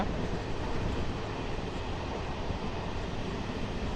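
A MEMU train running from Rajahmundry to Bhimavaram gives a steady, even rumble and rush of wheels and air from on board, continuous and moderately loud with no voices.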